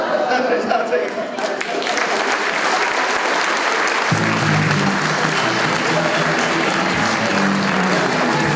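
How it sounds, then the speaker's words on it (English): A comedy club crowd gives a comedian a sustained round of applause, dense and loud, with a voice speaking over the clapping partway through. "have another nice round of applause for Ronnie Gaines"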